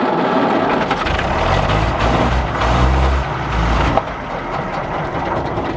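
An old Bedford K model rat rod truck engine cranks and catches on fuel in the carburettor, running loud and rough close by before the revs drop off and it idles unevenly.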